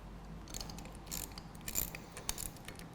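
A 4mm Allen key loosening a handlebar control screw on a BMW R80 RT motorcycle: faint, close metallic clicks and small scraping ticks in quick irregular bursts against a quiet workshop background, without talk.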